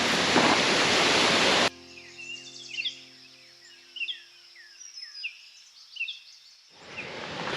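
A roaring rush of a backcountry waterfall fills the opening and closing seconds, loud and broadband; between these bursts it drops away, leaving scattered birdsong chirps over near silence.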